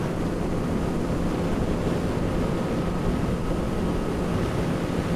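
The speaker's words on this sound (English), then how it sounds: "Man, that wind is trying to throw me around." Constant loud wind roar on a Honda CB650F motorcycle riding a highway, with dense low rumble, steady and unbroken like rushing air at speed, no voices.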